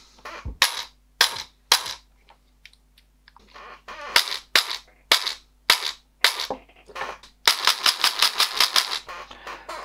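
Sharp mechanical cracks of an SR25 electric airsoft gun with a silenced gearbox firing, first in single shots, then quicker runs ending in a rapid full-auto burst, close and loud.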